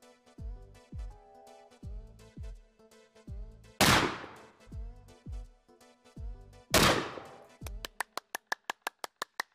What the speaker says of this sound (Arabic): سمعت صوت إطلاق النار؟